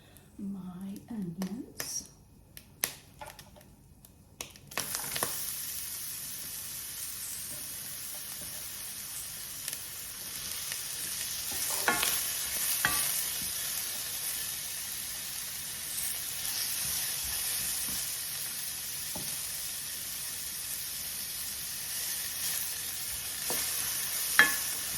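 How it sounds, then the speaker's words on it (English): Onions sizzle in oil in a skillet over medium heat after ground beef has been cooked in it. After a few seconds of brief clatter and a voice, a soft, steady hiss continues with occasional faint stirring sounds. "over kind of a medium heat, I'm going to throw in my onions"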